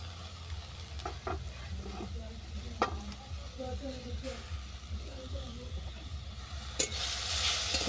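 Ridge gourd skin mixture with mashed potato, soft gourd pulp and chopped coriander sizzles steadily in a pan, with intermittent scraping stir strokes close by and faint talk in the background.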